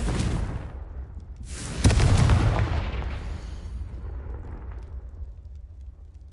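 A Confringo spell explosion in the game Hogwarts Legacy: a rumbling blast is followed by a second heavy boom that swells and then rolls away into a long, fading low rumble.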